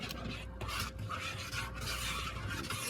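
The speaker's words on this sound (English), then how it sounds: "Scrape the sides of the bowl so that it" Close, soft rasping scrape of a utensil working bread dough off the sides of a mixing bowl, a continuous rubbing texture with small rhythmic strokes and no talk.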